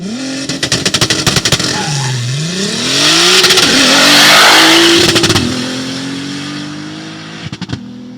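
A loud, modified car engine revs hard and climbs in pitch through gear changes, with sharp crackling pops at the start and end.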